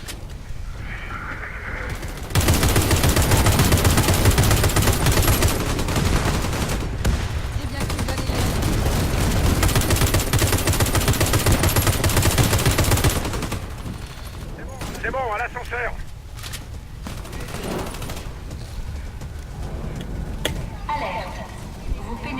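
Video game gunfire rattles in long continuous bursts, dense and loud, then drops to scattered shots and game sounds, with a player's voice talking at times.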